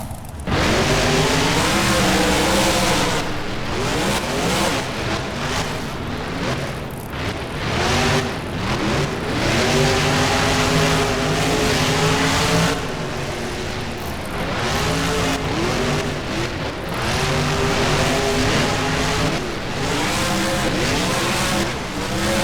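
Several monster truck engines roar and rev continuously through a race at Lincoln Financial Field in the BeamNG driving game, with wavering pitch as the trucks accelerate and turn and occasional tire skids, loud and steady throughout.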